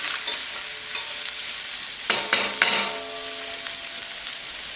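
Onions browning in butter in a pan sizzle steadily, with a few louder stirring scrapes near the middle, close and clear with no talking.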